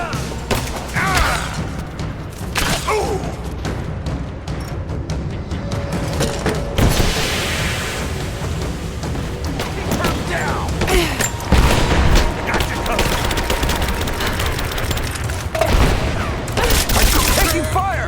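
Combat in Rise of the Tomb Raider, with rapid bursts of gunfire, booms and mechanical clatter layered over shouting voices in a dense, loud battle.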